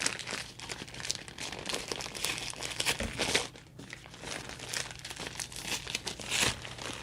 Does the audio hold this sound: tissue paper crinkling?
yes